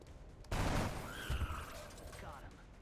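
Gunfire from a shooting video game: a loud burst of shots erupting near the start, followed by a second cluster of cracks, with game sounds and faint voices underneath.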